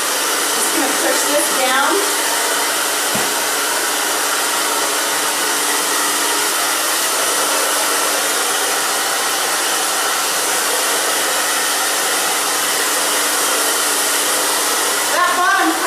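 A hair dryer blows hair dry on a simple A-line cut, a loud steady high whoosh running unbroken from start to finish, with a few brief spoken words barely surfacing over it.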